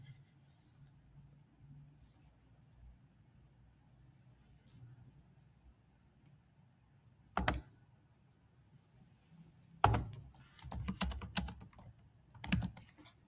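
Close, soft clatter of computer keyboard typing, a single isolated press followed by a burst of rapid, uneven keystrokes over a faint room hum, with no talking.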